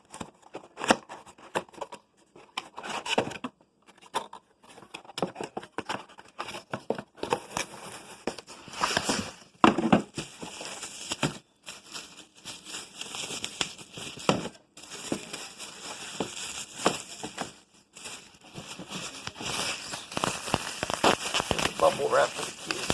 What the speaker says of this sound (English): Bubble wrap for the keys.